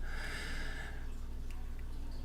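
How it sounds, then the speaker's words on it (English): A single deep in-breath during breathing meditation: a close, airy inhale lasting about a second, then quiet room tone. "We want your breath to go deep. Breathe in"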